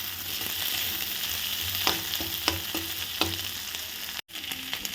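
Onion and capsicum frying in a pan for an egg dish, a constant close sizzle with several sharp spatula clacks and scrapes, ending in a brief cut of silence.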